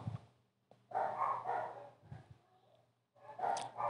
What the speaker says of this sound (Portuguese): Repara os cachorros latindo aí.